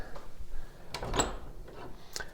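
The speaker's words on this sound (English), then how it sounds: "the doors are fitted with external French style hinges, so the doors, as you can see, do open fully wide." Antique pine wardrobe doors from around 1890, hung on external French style hinges, swing open with faint wooden creaks and a couple of soft knocks and clicks in a quiet room.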